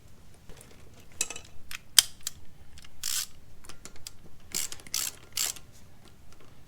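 Hex head bolts being snugged down on an Isuzu D-Max wheel hub with a ratchet, giving bursts of quick metallic clicking and a sharp clank, close up and alone.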